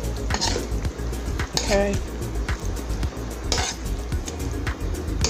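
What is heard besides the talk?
flipping and stirring food in a pan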